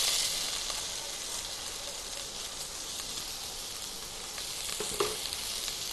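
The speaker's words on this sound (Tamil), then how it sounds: "நல்லா லேசாக வதக்கிக்கோங்க." Kale, sweet corn, small onions and tomato sauté in butter in a pan, giving a steady soft sizzle and hiss with a faint stir or clink near the end.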